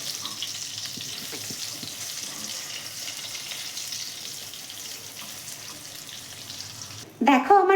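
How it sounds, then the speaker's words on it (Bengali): Eggplant slices frying in oil, salted as they cook, give a steady soft sizzle that holds at an even level and then turns louder and busier near the end. "ভালো করে বেগুনটা ভেজে নেব"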